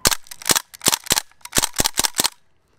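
A Crosman A4P AR-style BB pistol fires semi-auto in a quick series of about ten sharp, loud, close cracks at an uneven but brisk pace, then falls silent.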